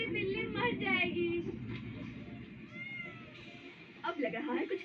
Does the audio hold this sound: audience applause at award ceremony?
no